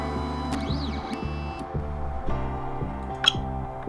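An Ultimaker 2 3D printer with a Bondtech extruder upgrade unloads its filament material, stepper motors giving a steady buzzing whine in repeating pulsed bursts, close and moderate in level, with occasional clicks and no voices.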